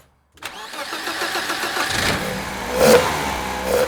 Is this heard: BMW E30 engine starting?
yes